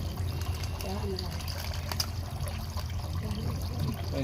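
Water pours and trickles steadily during a bath, with shampooing and scrubbing of a child's head; voices talk over the continuous splashing flow.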